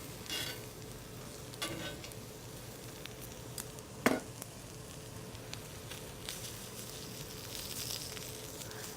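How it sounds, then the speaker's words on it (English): Shrimp sizzle on a hot grill while being moved to a hotter spot, alongside other seafood. A faint, steady crackling hiss runs throughout, broken by a few light clicks and one sharp tap from handling. "Just going to bring these down a little bit to the hotter spot of the grill."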